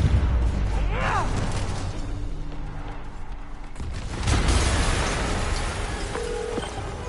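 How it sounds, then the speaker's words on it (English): Explosion in a video game: a deep, broad boom bursts about midway and rumbles on over a busy, noisy game soundscape with tonal effects beforehand. "an explosion just..."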